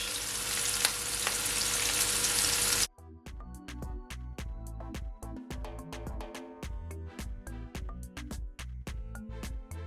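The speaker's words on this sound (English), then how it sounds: "I'm gonna add my cabbage" Washed cabbage hits a hot pan for fried steamed cabbage, producing a loud, dense, close sizzle that lasts about three seconds. The sizzle cuts off abruptly and rhythmic music takes over.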